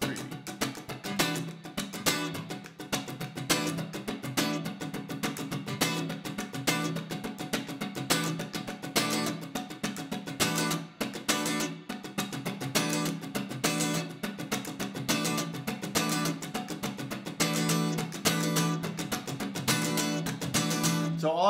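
A guitar is strummed steadily in a dense, driving groove, with chords squeezed and released to land accents in shifting places, loud and unbroken throughout with no voice.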